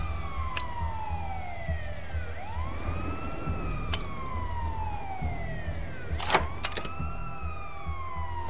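A police siren in the video game Sleeping Dogs wails in rising and falling sweeps, fairly close, accompanied by a steady low engine rumble and a few sharp clicks.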